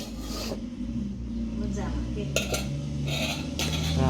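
Dishes and tiffin boxes clink and scrape as lunch is packed, with several metallic knocks and rattles scattered over a few seconds. Someone talks quietly in the background.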